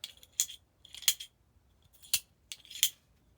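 Milwaukee Fastback folding knife blade flipping open at the push of a button, heard as four sharp metallic clicks in separate pairs, close and crisp against quiet.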